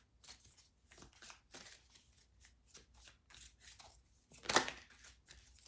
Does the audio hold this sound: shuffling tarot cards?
yes